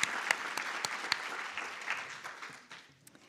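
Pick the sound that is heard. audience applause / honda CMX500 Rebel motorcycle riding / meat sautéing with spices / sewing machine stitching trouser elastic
audience applause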